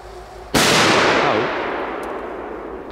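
A Polish Super Petarda firecracker goes off outdoors in one sharp, very loud bang, followed by a long, rolling echo that slowly fades.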